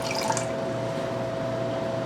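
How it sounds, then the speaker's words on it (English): Water being poured into a bowl for bread dough, a steady close splashing stream with a brief bright spatter at the start and a faint constant hum in the background. "I'm going to add my water to my bowl"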